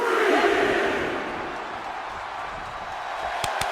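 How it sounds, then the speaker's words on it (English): Roaring arena crowd from the WWE 2K24 wrestling video game during a brawl outside the ring, a dense steady wash of cheering that stays loud throughout, with a couple of sharp impact hits near the end. "Fighting in the crowd now where the cheers may drown out the ref's count."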